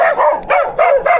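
A dog barks at a passing cyclist outdoors, four loud close barks in quick succession.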